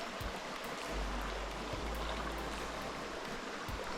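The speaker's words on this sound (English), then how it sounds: "So this is a cascade actually" Small water cascade on the rainforest floor in Sinharaja, Sri Lanka, a steady, fairly faint rushing trickle with no voices.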